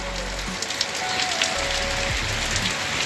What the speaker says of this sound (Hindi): ये देखो गाइस बारिश आ चुकी है भयंकर वाली